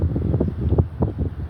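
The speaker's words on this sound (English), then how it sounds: "that wind is killing me" Outdoor wind buffets the microphone with a steady, loud low rumble and irregular gusty swells throughout, heard alone with no voice.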